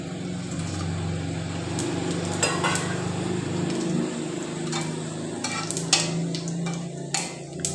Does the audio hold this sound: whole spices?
yes